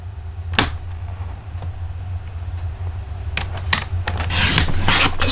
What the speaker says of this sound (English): And we're going to cut a piece off.